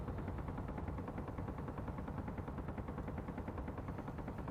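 Rapid automatic gunfire from an enemy in the Space Engineers video game, a dense, steady stream of shots rattling without a break throughout.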